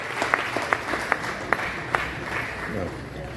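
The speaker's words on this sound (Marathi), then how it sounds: "सर्वांनी जोरदार टाळ्या झाल्या पाहिजेत आणि टाळ्या आणि शिट्ट्या वाजत राहिल्या पाहिजेत" Audience applause at a transgender fashion show in Nashik, scattered sharp claps over a crowd murmur, with a voice speaking through it.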